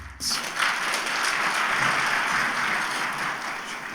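Audience applause welcomes a speaker to the podium at a press event for a Turkish platform, a full, steady round of clapping that swells quickly and holds through the moment.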